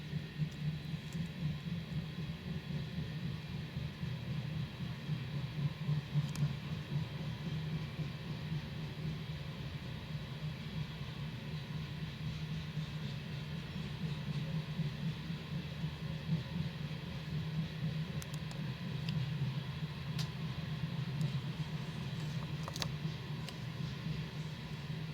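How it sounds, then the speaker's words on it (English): Coal train rolling past on a long stretch of track in rural Wyoming, a steady low rumble with faint clanks that holds evenly for the whole time, no start or end in view. "Come on to this coal train here."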